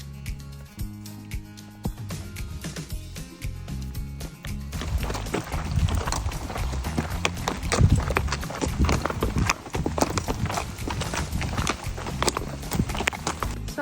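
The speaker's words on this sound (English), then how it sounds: "So we're bringing in the horses." Steady clip-clop of horse hooves on a hard surface as horses are brought in while rain and thunder begin, a quick rhythmic patter that grows busier and louder partway through, with no voices.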